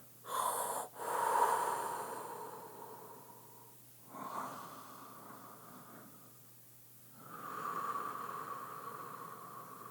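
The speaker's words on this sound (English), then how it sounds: "And as you breathe in, push out. And as you breathe out, bring up." Slow, deep breaths in and out, close and alone with no talking: a few drawn-out inhales and exhales separated by short quiet pauses.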